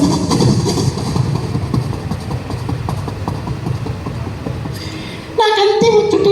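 A child imitates a train with the voice, a steady rumbling chug held for about five seconds before shifting into a higher, tonal whistle-like sound at the end.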